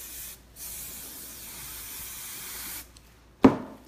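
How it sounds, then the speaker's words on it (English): Hairspray hisses from an aerosol can onto hair in two long steady bursts, close and fairly loud, with a short pause between them, followed by a brief sharp rustle. "And then I'm gonna take my hairspray again."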